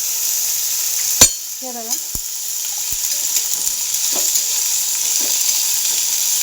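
Sliced radish sizzling in a pan with roasted green chillies, a steady bright frying hiss with a sharp clink of a utensil near the start and scattered light stirring taps, while a voice speaks briefly.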